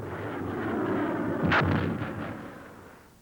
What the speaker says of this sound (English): The Maverick missile has a small infrared guidance camera and computer in its nose, which visually locks onto a target and then guides itself until impact